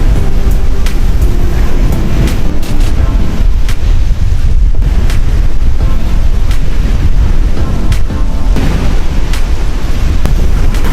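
Strong wind buffets the microphone on a Kalanggaman Island beach, a loud continuous roar with surf rumbling underneath and no voices.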